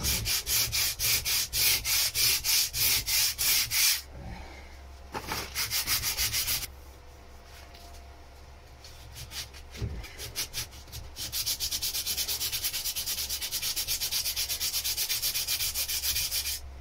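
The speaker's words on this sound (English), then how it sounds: "I've still got a little low spot there that won't sand out." Hand sanding of a wooden boat hull, with steady rhythmic back-and-forth strokes of abrasive on wood, close and fairly loud, pausing briefly before resuming in a continuous rasping run with no talk.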